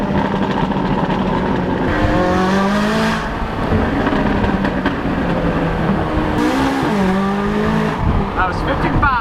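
A tuned McLaren 570 sports car making 750 horsepower, fitted with VF Engineering downpipes, drives by loudly, its engine rising and falling through several gear changes over about nine seconds with talking underneath.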